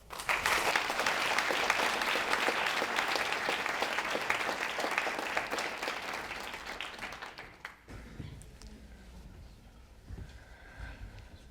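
Sustained applause from an audience welcoming science journalist Gary Taubes to the stage, loud and steady for about eight seconds before abruptly dropping to a quieter room tone.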